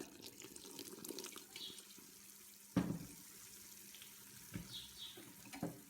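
Water from a tap or pour splashes into a pot while Tunisian baklava syrup is prepared, faint and intermittent, with a clearer splash and a few clinks in a quiet kitchen.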